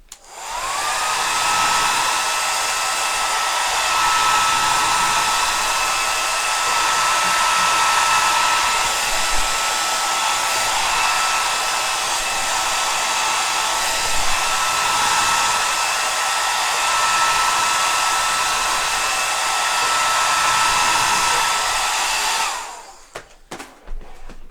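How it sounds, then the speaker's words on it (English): A hair dryer blows steadily for about twenty-two seconds to dry a watercolor wash, then cuts off. Its airflow roar stays loud and constant with a faint whine throughout, and no one speaks over it. "let me just hit this with the hairdryer real quick."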